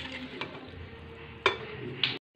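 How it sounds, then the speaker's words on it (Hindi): Macaroni pasta mixed with spices is stirred in a pan, a quiet scraping bed marked by three sharp utensil clinks against the metal. "यहाँ पर मैं सारी मैक्रोनी पास्ता को इस तरीके से मिक्स कर दूंगी अच्छे से चला करके"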